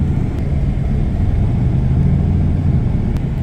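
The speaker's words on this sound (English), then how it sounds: "All right, push to start. Dude, this thing sounds like a muscle car." A Mercedes engine fired up by push-button start idles with a deep, steady, muscle-car-like rumble, loud and close, with no voices.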